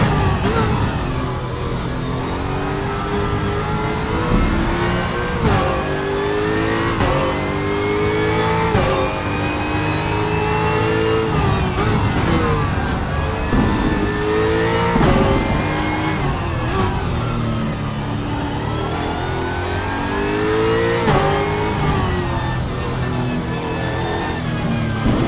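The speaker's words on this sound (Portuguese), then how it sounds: "Eu posso falar que é um carro mais estável esse Ford GT do que comparando com o McLaren." Ford GT V8 race car in the RaceRoom racing game, its engine revving loud and steady through repeated gear shifts and rising pitch sweeps across several laps, with no talking.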